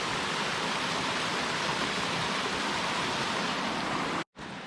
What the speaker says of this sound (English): Look at that gorgeous little waterfall.